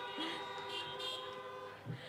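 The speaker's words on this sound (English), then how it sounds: "Honk your horn if you thought we would be here today." Car horns honk from a parked crowd at an outdoor high school graduation, several overlapping toots and sustained blasts layered together, moderately distant.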